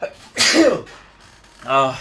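A single sharp sneeze bursts out, then a pause and a short voiced sound afterward.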